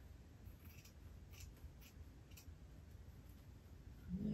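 Scissors cut out paper at a craft table, giving faint, intermittent snips and rustles over a quiet background hiss.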